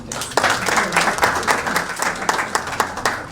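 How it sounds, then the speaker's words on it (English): Audience applause at a meeting: dense, sustained clapping from a crowd, steady and fairly loud with individual sharp claps popping out throughout. "Let us give a warmer round of applause"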